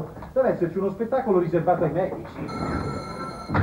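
A telephone rings in a busy room, its steady electronic tone starting partway through and continuing under ongoing talk.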